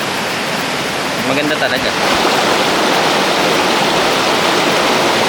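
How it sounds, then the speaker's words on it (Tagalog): Steady broadband rush of a flowing river, loud and continuous throughout, with a brief spoken remark near the start. "Ganda ng ilog dito."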